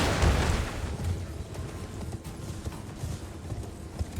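Horse hooves gallop in the Elden Ring video game, a quick, steady clip-clop rhythm up close. The beat is strongest at the start and then runs on a little softer.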